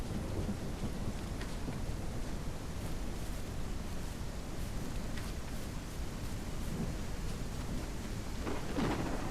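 Steady, dense rainfall with low rumbling thunder in the survival video game No One Survived, continuous and fairly loud throughout with no talking.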